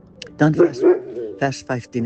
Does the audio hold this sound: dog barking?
yes